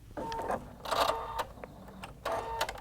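Husqvarna Viking Designer Brilliance 80 embroidery machine stitching in short mechanical bursts, a whirring run, a pause with small clicks, then another run, close and moderately loud.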